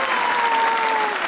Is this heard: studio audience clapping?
yes